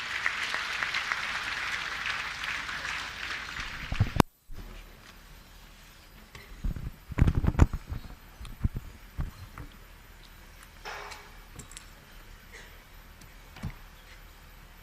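Applause from a ceremonial gathering rises to greet a chief justice, a dense steady clatter of clapping hands lasting about four seconds before cutting off, followed by scattered thumps and faint room noise.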